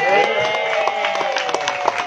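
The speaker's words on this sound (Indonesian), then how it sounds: "Tepuk tangan juga untuk tim post production" Audience applauding the post-production team at a thanksgiving celebration for the film Ngeri Ngeri Sedap, scattered claps under a speaker's amplified voice and background crowd noise.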